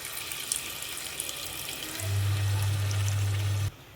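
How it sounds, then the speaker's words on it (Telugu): Tamarind juice pours steadily into a pot of Korameenu fish curry for about two seconds, a smooth continuous stream over a faint background hiss, then stops abruptly. "ఇప్పుడు ఇందులోకి చింతపండు రసం అయితే వేసేస్తున్నాను"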